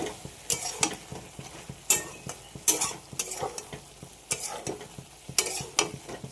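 Soybean chunks and spice masala being stirred and sautéed in a pan, a spoon scraping in an irregular rhythm over a soft sizzle, close and alone.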